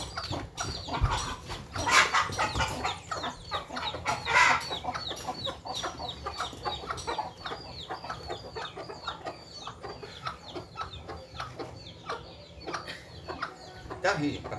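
Rooster clucking and squawking in agitated bursts, close and fairly loud, as it is being caught in a farmyard, with scuffling between the calls.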